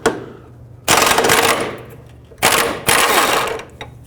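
A ratcheting wrench loosens a bolt on the front lower control arm of a 2005-2009 Chevy Equinox, three loud bursts of rapid clicking separated by brief pauses.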